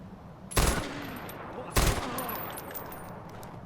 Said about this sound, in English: didn't hear all that gunfire down there?